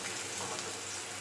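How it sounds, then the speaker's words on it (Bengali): Cut potatoes frying in oil in a pan: a dense, even crackling sizzle, close and steady throughout, with no other sounds. "এসো দেখো আমি আলুগুলো ভাজা শুরু করে দিয়েছি"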